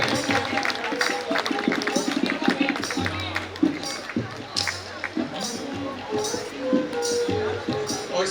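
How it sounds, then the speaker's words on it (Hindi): Audience at a Shrimad Bhagavat Katha gathering in Ichalkaranji breaking into sustained clapping, a dense patter of many hands with crowd murmur, mixed with speech and amplified sound. "जोरदार तालियों से इनका अभिनंदन करें"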